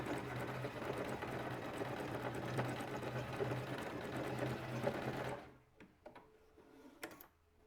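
A home sewing machine runs a straight stitch at stitch length 1, a fast, steady mechanical whir with a low hum that stops abruptly, leaving a few faint clicks and taps.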